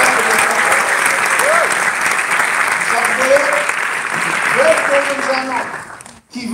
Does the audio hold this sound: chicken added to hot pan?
no